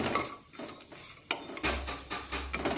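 A spoon clinks and scrapes against a pan as dry fruits are stirred and fried in ghee, with irregular nearby clatter and a light sizzle underneath.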